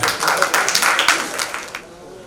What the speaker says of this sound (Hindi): एक बार तालियों के साथ अभिनंदन करें।